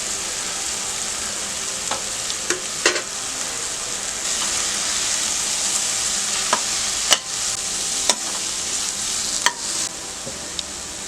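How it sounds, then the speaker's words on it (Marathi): Leftover masala paste hits hot tempering in a pan on a low flame while making Malvani stuffed crabs, giving a loud, steady sizzle with occasional sharp clicks and scrapes from stirring. "राहिलेले वाटण आपण आता फोडणीला घातले आहे"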